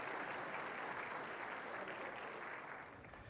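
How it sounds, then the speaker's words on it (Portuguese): A church congregation gives a steady round of applause to first-time visitors at an evening service, dense hall-wide clapping that holds evenly and eases slightly near the end. "Vamos dar uma salva de palmas a esses queridos nessa noite."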